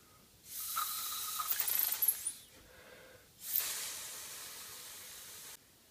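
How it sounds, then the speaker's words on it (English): A hand-blown ink sprayer misting ink onto paper for a stencil artwork gives two steady airy hisses, the first about two seconds with faint clicks, then a pause, then a second longer even blast, close and alone. "here's my tool that I'm blowing through to spray ink out onto the paper"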